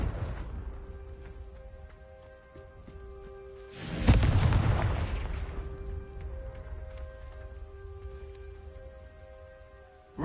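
A Confringo blasting curse explodes in Hogwarts Legacy, one loud deep boom that rolls out and decays over several seconds against a low steady game ambience.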